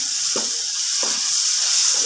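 Tomato masala for fish katakat sizzles steadily in a pan, a constant bright hiss with a few soft stirring scrapes over roughly two seconds, close and moderately loud.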